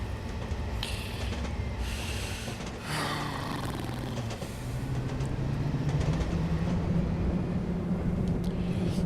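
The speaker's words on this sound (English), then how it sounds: "Trains on this bridge, awesome." A Class 55 diesel locomotive rumbles across a bridge on the western lines of Scotland in rainy weather, a steady low engine drone swelling as it gains power, heard close and continuous without talk.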